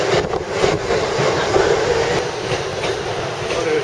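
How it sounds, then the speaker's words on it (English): A train rolls past close by, loud and continuous, with rumbling wheels, rhythmic clickety-clack over the rail joints and faint squealing, filling the whole clip. "And here comes the train."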